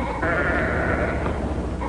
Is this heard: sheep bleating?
yes